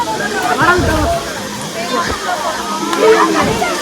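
Steady rushing water of a waterfall in Kollengode, Kerala, fills the scene, with people talking over it throughout.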